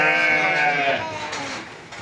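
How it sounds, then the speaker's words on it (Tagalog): Sheep bleat at a resort farm area, a wavering nasal call that fades out, with faint human voices nearby. "Ito yung mga tupa."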